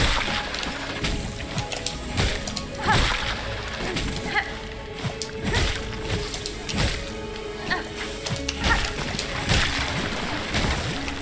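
Repeated sloshing splashes come from wading through dirty water in the video game Silksong, in an uneven rhythm of watery steps over a low ambient game bed.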